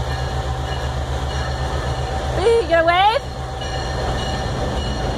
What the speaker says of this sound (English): With the train going by, you should wave.